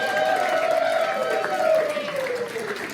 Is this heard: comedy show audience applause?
yes